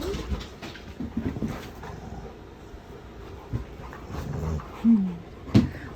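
Four dogs playing tug of war at home, with scuffling movement, panting and a few short growls and whimpers close by, plus scattered bumps and a brief louder yelp near the end.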